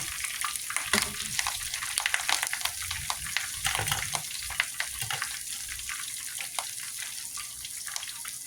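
A tilapia fillet sizzles and crackles steadily in hot frying oil after being flipped, a close, dense hiss peppered with sharp pops throughout.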